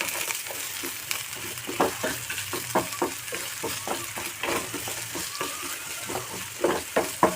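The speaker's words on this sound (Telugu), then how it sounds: "ఇప్పుడు మనం ఇవి కాస్త వేగాక ఇందులో మనం సన్నగా కట్ చేసి పెట్టుకున్న ఉల్లిపాయలను కూడా వేసుకొని ఫ్రై చేసుకోవాలండి" Thinly sliced onions frying with green chillies and chana dal in a pan, a continuous close sizzle broken by frequent scraping stirs and crisp ladle taps, no voices.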